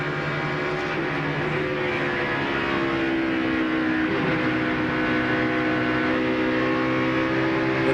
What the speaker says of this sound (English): Now they're downshifting in 1, upshifting right about where these guys are here in between 1 and 2, then downshifting again, getting into turn 3.